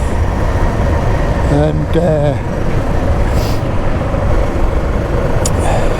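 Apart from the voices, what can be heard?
Suzuki DR650SE motorcycle riding over corrugated forest trail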